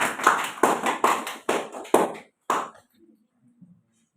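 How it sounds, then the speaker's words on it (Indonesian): A church congregation claps in unison, six sharp, loud, evenly spaced claps in a steady beat, then stops, leaving faint room noise. "Tepuk tangan buat Yesus."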